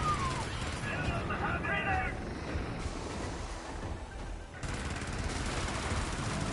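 Cannon fire in the video game Helldivers, heavy booming blasts and rumbling gunfire-like bursts, a steady noisy barrage that dips briefly before resuming loudly.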